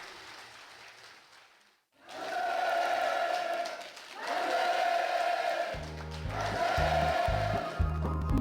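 Participants at a North Korean ceremony handing over housing-use permits in the Komdok district burst into sustained, enthusiastic applause. A dense wash of clapping rises abruptly after a brief lull, and lower tonal sound joins near the end.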